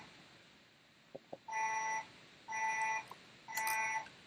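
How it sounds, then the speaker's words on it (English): A router-driven home security demo sounds an electronic alarm: three loud, steady beeping tones of about half a second each, one per second, after a couple of faint clicks, in a quiet room. "And then it plays an alarm."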